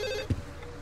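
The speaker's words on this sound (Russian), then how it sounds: "Телефон зазвонил. А где телефон? Вроде слышу." A telephone rings once inside a horror video game, a single short burst of bell tone set against a steady droning ambient background, fairly faint.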